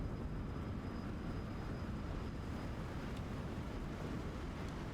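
An F-100D jet in the DCS flight simulator rolls for takeoff, a constant broadband engine roar and rush of air that holds steady and loud throughout with no voices.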